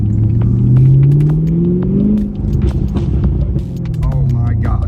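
Chevrolet Camaro SS 1LE with a Stainless Works axle-back exhaust in track mode, a loud deep V8 rumble rising and falling as it accelerates on a drive, with voices talking over it.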